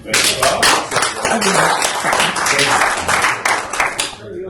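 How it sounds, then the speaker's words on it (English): Audience applause fills a room at a radio drama and comedy preservation gathering, a dense burst of clapping that tapers off after a few seconds. "A little round of applause."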